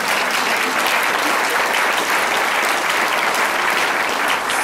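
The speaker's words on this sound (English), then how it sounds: "You guys want to clap?" A city council candidate forum audience bursts into loud, dense applause, a sustained wash of many hands clapping close and evenly throughout.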